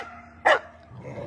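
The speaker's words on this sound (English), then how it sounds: "And doesn't Noodles have the most irritating bark award?" A dog gives a single short, loud bark in a snowy farm setting, standing out from quiet background noise.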